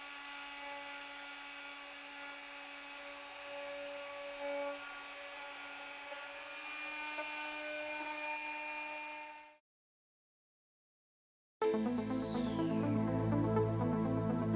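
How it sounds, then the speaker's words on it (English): A FEIN SuperCut Automotive FSC 1.6 oscillating tool sands with a steady, loud, high buzzing whine. It cuts out abruptly, then a second tool burst starts with a falling pitch sweep. "carry out a wide range of detailed sanding work on flat surfaces or in a very small space"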